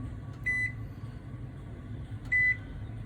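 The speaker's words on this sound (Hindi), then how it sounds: "अब मैं इसमें लगाऊंगा टाइम, मेरा ओवन का टाइम लगाऊंगा मैं।" An oven's control panel gives two short electronic beeps about two seconds apart while its timer is being set, clear and bright over a faint steady room hum.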